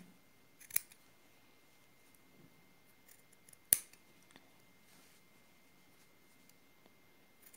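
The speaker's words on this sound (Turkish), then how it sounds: "Bunu makas yardımıyla şöyle düzeltin arkadaşlar." Scissors snip excess yarn to trim a pompom made on a pompom maker, giving two sharp, close cuts among faint rustling and small clicks in a quiet room.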